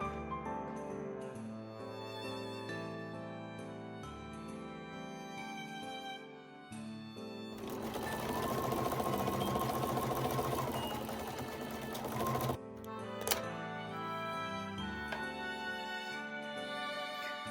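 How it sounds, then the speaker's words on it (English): A sewing machine with a walking foot top stitches fabric for a shoe, a loud close whirring run that swells in the middle section, with music playing underneath. "Swap your zipper foot for a walking foot if your machine has one, and top stitch along both long edges 2 mm from the edges."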